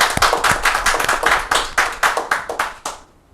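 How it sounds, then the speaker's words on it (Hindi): A small audience claps for an honoree at a community event, a dense run of close, sharp handclaps that fades out near the end; no voices over it. "जोरदार तालियां हो जाए इनके लिए।"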